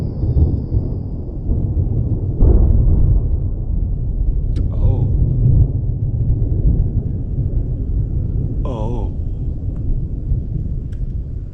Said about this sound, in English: We have big thunder rolling in.